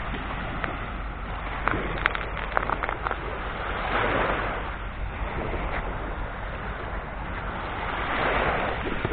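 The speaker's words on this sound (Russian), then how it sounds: "просто посмотрим на море, послушаем волны" Sea waves washing onto the shore at Anapa on a rainy day, a steady broad rush of surf that swells and recedes in slow cycles, with wind buffeting the microphone and no voices.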